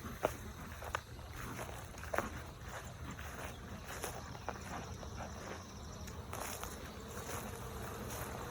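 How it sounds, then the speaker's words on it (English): Honeybees work around hives damaged by a bear attack, giving a steady, close insect buzz with individual bees zipping past, and a few faint knocks and thumps mixed in. "Bees just a working and a going"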